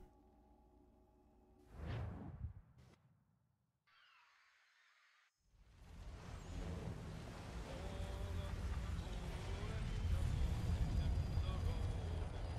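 Atlantic Ocean waves in the video game Assassin's Creed 3 Remastered: a steady, broad wash of surf and wind rising after a few brief swooshes and a short quiet gap, growing fuller and louder toward the end.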